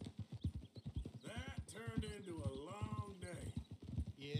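Horse hooves clip-clopping steadily in Red Dead Redemption 2, a quick even rhythm of hoof falls throughout with a whinny partway through, heard under a player talking.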